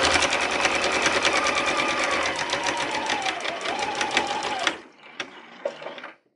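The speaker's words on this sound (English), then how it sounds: "your foot is powering the machine forward" A sewing machine stitches fabric in a straight run, its rapid steady needle chatter continuous and close for about five seconds, then stopping abruptly with a few brief mechanical clicks and thumps as it halts.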